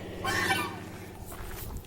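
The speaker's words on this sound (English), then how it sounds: "you hear geese in the background" Geese on a farm with a small pond call out in a short burst of honking near the start, then the farmyard settles into quieter background noise with occasional faint calls.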